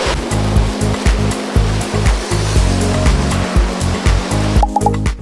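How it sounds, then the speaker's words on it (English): Natural mineral water runs down the walls in Lithuania, a loud, steady rushing wash with a regular rhythmic pulsing underneath, close and continuous with no talk. "we come here to listen to the water and to breathe in the natural mineral water that's running down the walls"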